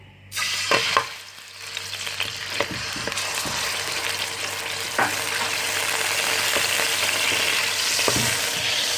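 Tomato cubes hit hot oil in a karahi for chicken karahi, bursting into a loud, close sizzle that settles into a steady crackling fry with occasional sharper pops and utensil scrapes.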